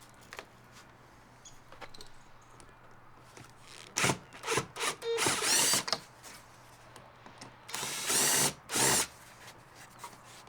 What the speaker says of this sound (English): start taking those little screws out